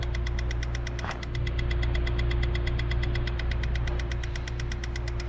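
A 2022 Genesis GV70 with a misfire runs steadily while its number 2 fuel injector is activated, giving a rapid, even ticking pulse over the continuous engine hum and vibration.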